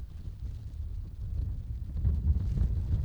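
Steady low wind buffets the microphone on an open disc golf course during the final round of a windy tournament, a constant rumbling roar that swells louder toward the end.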